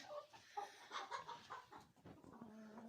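Chickens cluck softly at close range in a hen house, with short, uneven calls and faint shuffling under them.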